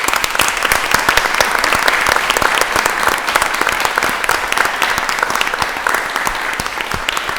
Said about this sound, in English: please give us another round of applause for such a great winner